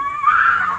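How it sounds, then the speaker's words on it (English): Strange screams in the middle of the night, caught on a man's recording: one loud, drawn-out, rising wail that holds steady and close for under a second with no talk. "a man who was woken up by strange screams in the middle of the night"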